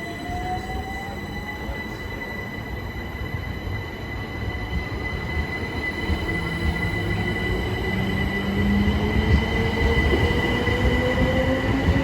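Southeastern Class 377 electric train passing through Ashford International station, a steady loud rolling rumble with high squealing wheel and motor tones gliding in pitch, growing slightly louder toward the end.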